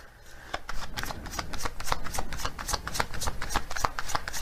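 A deck of oracle cards being shuffled up close, a rapid run of crisp riffling flicks and slaps at an uneven rhythm, fairly loud and continuous, with no talking.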